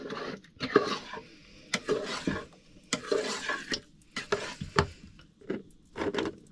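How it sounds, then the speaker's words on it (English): A spoon stirs a big pot of chilli made with tinned ingredients and beef stock, giving repeated scraping and clinking strokes in an irregular rhythm. The sound is close and moderately loud, with no talking. "let me get a spoon to mix this"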